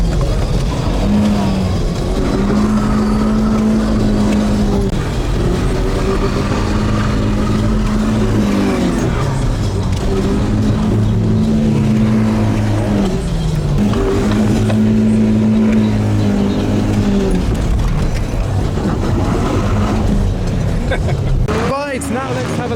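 BMW E46 estate car with a hydraulic handbrake drifting on a wet track, heard from the passenger seat: steady loud engine drone with rising and falling revs in repeated surges, with voices talking over it.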